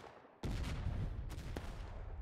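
Cannon artillery fire in the War of Rights battle game on the Antietam-era Anderson's map: a sudden heavy blast followed by rolling rumble and a few sharper distant reports.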